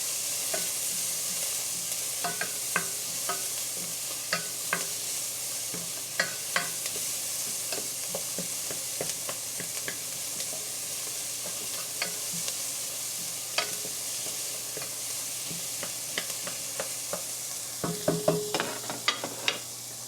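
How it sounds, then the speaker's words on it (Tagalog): Onion and garlic sautéing in a pan, a steady bright sizzle with scattered clicks and scrapes of stirring throughout, close and continuous with no talk. "lagay natin yung sibuyas. And then yung garlic, isabay ko na rin. Gisa-gisa."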